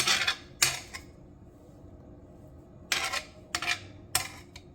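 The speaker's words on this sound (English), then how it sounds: "Then I'm going to mix this" A spoon scrapes and clinks against a bowl while nacho filling is stirred, with several sharp bursts of clatter separated by quieter stretches, close up and with no talk.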